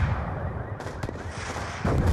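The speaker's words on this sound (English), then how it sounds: "Taking heavy fire from all directions." Heavy gunfire in the video game Call of Duty Black Ops 2, a loud, dense barrage of shots and blasts with rumbling impacts, rising to a heavier burst at the end.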